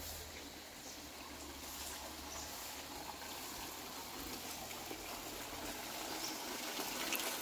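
Water steadily flowing and trickling from a stone kund along the Narmada, a continuous gentle rush with no voices, growing slightly louder toward the end.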